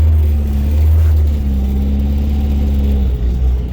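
A manual transmission car accelerates up a hill, its engine droning loud and close with a strong low hum that rises and falls slightly as gas is fed in.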